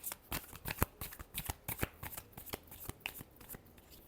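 A deck of tarot cards shuffled by hand: a quick run of crisp, close riffling flutters and slaps in uneven bursts, with no voice.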